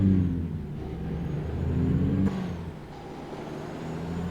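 A Cummins L10 engine in a Kenworth K100E truck in a driving simulator holds a steady, deep droning rumble at cruising pace, swelling slightly midway, then settling back.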